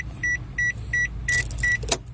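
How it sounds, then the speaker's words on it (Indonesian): A Daihatsu Sigra sounds a series of short, evenly spaced electronic beeps, five in a row, close and clear over a faint low rumble, ending with a brief click. "tutut adalah bunyi supaya jangan tertinggal kuncinya"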